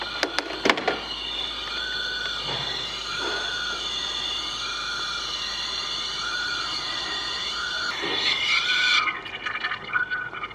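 Coolant gurgling and bubbling inside a running Volvo V60 engine with a coolant loss fault, a repeated burbling pulse over a steady mechanical hum, ending with a brief sharp rush.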